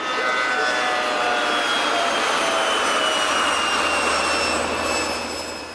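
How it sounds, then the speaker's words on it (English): Airport runway snow sweepers and plows roar in a loud, steady mechanical whine with jet-like turbine tones, sustained close by and fading slightly at the end. "The snow sweepers and plows are constantly moving, even if a plane is landing or taking off."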